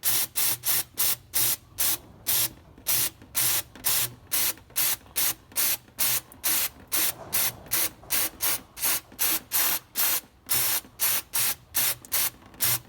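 Brake cleaner sprays in roughly thirty short, rhythmic bursts onto the rear differential of a 1988 Dodge Ram truck, each a loud close hiss separated by brief gaps.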